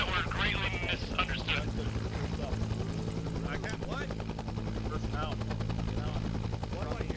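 Military helicopter in a Vietnam-era video game operation, its rotor chopping in a steady loud throb throughout, close by, with radio voices talking over it.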